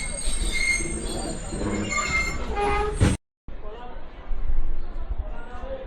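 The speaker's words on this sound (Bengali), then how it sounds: "দশটা তিরিশ মিনিটে আমাদের ট্রেনটা পার্বতীপুর রেল স্টেশনে পৌঁছাইছে" A Banglabandha Express train pulling into Parbatipur railway station, with high squealing wheels and rumbling carriages close by, a brief cut midway, and voices talking over the noise.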